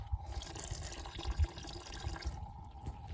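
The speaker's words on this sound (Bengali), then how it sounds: "সিদ্ধ করার পরে এইভাবে চারিপাশে এইভাবে জল দেবেন" Water is poured into a shrimp pond, a steady close splashing and trickling with low gurgles throughout, no voices.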